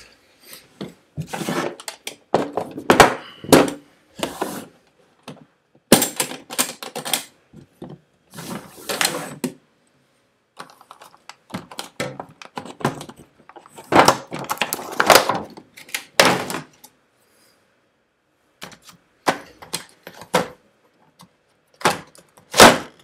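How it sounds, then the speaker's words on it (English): An M3 thread cutter works threads in a workshop, producing irregular clusters of short scraping, clicking strokes separated by brief silences. "M3 thread cutter."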